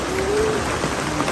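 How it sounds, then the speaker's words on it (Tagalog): Heavy rain pounds on roofs, some of them full of holes, in a rural village. A loud, dense, constant hiss of drumming drops fills the moment up close, with no one speaking. "Ayan, malakas po ang ulan."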